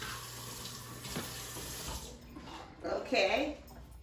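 A tap runs water to rinse out a small cup during a kitchen-table volcano demonstration, a steady close splashing stream lasting several seconds, growing brighter and louder near the end as the water hits the cup, with a faint voice briefly underneath.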